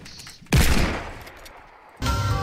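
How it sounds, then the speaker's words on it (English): Shotgun fire in an online multiplayer video game: a sudden loud blast with a decaying tail, followed by a second burst two seconds later, no voices. "Why do they all have shotguns?"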